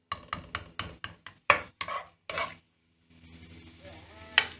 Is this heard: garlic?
yes